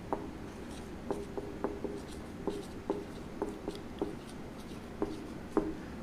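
Chalk or a marker taps and scratches on a board during a classroom physics lesson, in quiet, evenly spaced strokes at a faint level with no talk over them.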